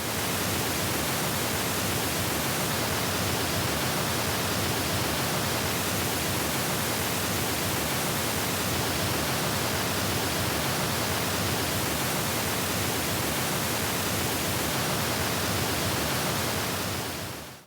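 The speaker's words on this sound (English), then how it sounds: "let's do the sound clip and let you get an idea of how this speaker impacts the frequency response of just standard old pink noise" Standard pink noise played through an AsciLab F6B bookshelf speaker, a dense unbroken hiss spanning the whole range at constant loudness before cutting off abruptly.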